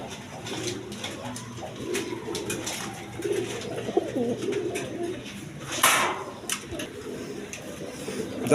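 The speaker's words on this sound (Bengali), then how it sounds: "এখানে একটা সিঙ্গেল মাদি কবুতর আছে" Pigeons coo in low, soft repeated calls amid steady background noise and occasional rustles.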